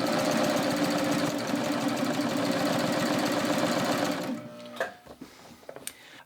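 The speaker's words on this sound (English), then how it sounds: "I can continue serging" Baby Lock Ovation serger stitching fabric, a loud steady fast mechanical whir with rapid needle chatter for about four seconds, then stopping into a few soft clicks and handling sounds.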